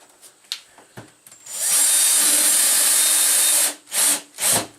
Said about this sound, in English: I'm using a number 2 Phillips screw head for my drill